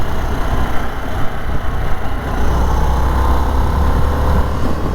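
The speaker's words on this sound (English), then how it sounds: "that exhaust really does have a note once you get up the rev range" A Harley-Davidson Sportster S 1250 engine and exhaust rumble loud and close, a dense low-pitched drone that holds steady with slight surges in revs.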